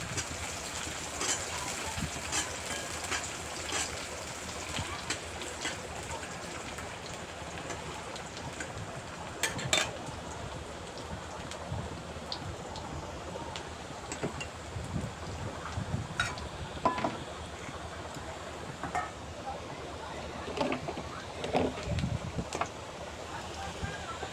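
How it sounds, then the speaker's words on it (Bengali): Onion frying and being stirred in a pan over a gas flame, a continuous close crackling sizzle with sharper pops scattered through it and occasional spatula scrapes. "পেঁয়াজটা এভাবে নাড়াচাড়া করে লাল লাল করে ভেজে নেবো"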